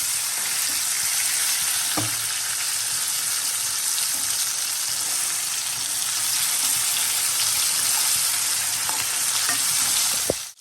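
Stuffed bananas fry in hot oil in a kadai, giving a loud, continuous crackling sizzle with occasional small pops and no voices.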